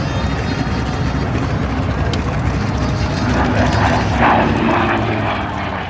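A propeller warbird engine drones loudly and steadily nearby at an airshow, rumbling continuously as the aircraft taxis along the ground.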